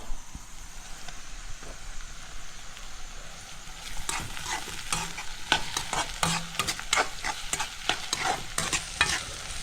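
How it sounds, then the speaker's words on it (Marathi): Tomato and chili added to cooked onion in a pan for a village-style snail gravy, a bright continuous sizzle with scraping stirring strokes growing busier partway through, close and without talk. "आता मस्तपैकी आता टोमॅटो टाकूया आपण त्यामध्ये आणि मिरची सुद्धा."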